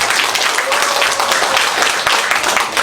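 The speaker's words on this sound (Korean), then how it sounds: "나올 때부터 힘찬 박수 한번" A church congregation claps vigorously during a founding-anniversary and thanksgiving worship service. The applause is loud, close and continuous, with many hands blending into a full, lively roar.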